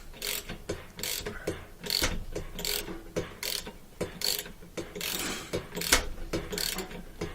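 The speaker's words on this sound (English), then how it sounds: "It kind of holds it while you're spinning that bolt off." Ratchet spinning a factory-Loctited bolt off the rotor of an LG washer, a fast repeated clicking ratchet whir in bursts, loud and close, with no talk.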